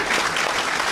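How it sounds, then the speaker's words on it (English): A brief burst of steady, dense audience applause at a Jamaican festival event, loud and close throughout with no gaps. "Give them a big round of applause again."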